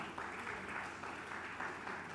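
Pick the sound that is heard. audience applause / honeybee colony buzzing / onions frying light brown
audience applause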